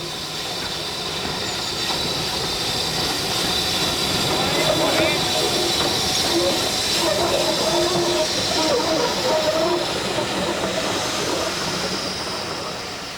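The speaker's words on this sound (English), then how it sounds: "On this occasion, it's the turn of another popular class, the British Railways Standard 264 tank." A British Railways Standard tank steam locomotive works steadily with a train, giving a continuous loud hiss and rumble with rail noise throughout.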